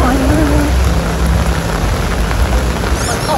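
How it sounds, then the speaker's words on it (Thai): Heavy rain pours down in Singapore with a dense, unbroken hiss close by. Brief voices are heard at the start and end. "ตกหนักมากเลยไม่หยุดเลยนะ"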